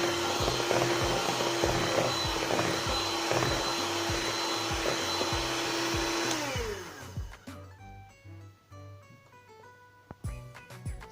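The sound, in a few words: whisking blueberry cake batter with buttermilk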